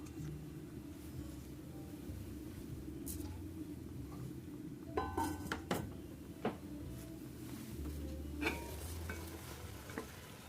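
Vegetables, tofu and quinoa with garlic, onion and carrot are stirred in a hot pan, giving a steady low sizzle. A few sharp scrapes and utensil clinks rise midway.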